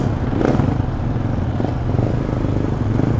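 A 350cc motorcycle riding slow circles, its engine giving a steady, close, continuous throbbing drone with slight rises in revs and no talk.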